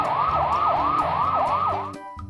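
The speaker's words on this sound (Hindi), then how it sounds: "फूड इंस्पेक्टर और पुलिस सायरन बजाते हुए जीप में वहां पहुंचते हैं।" A police jeep's siren wails in a fast repeating rise-and-fall cycle, loud and close, over a low engine rumble, then cuts off abruptly near the end.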